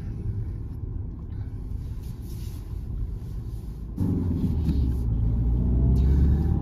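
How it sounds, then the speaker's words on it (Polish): A Peugeot 308 SW's 1.5 BlueHDi 130 hp diesel engine rumbles at a steady idle-like drone, then swells louder as it accelerates, with low rumble building toward the end. "Ten 130-konny silnik daje radę zupełnie w tym samochodzie"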